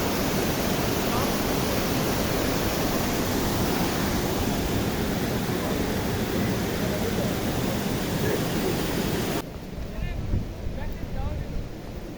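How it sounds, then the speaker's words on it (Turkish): A waterfall in the Ornaz Valley roars as a loud, continuous broadband rush with heavy wind buffeting the microphone, then drops abruptly to a quieter, more distant wash near the end. "Şelaleye geldik yine."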